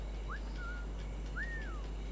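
In Assassin's Creed IV: Black Flag, a character gives short luring whistles to draw a guard over: a quick rising chirp, a flat held note, then a longer arching whistle, clear and close above a low background hum.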